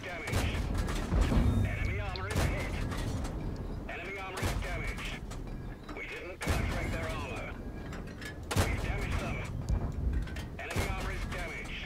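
Tank cannon fire in the video game World of Tanks, with a KV-1 among the tanks in battle: several loud, sharp booms spaced a few seconds apart, with mechanical rumble and clatter in between and talk mixed in.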